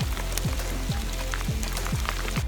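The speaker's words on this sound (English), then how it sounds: "We were getting caught in the rain, which was okay. Now it's hailing." Hail and rain fall outdoors on a mountain hike in Rocky Mountain National Park, a steady patter of drops with periodic low thumping impacts repeating every half second or so.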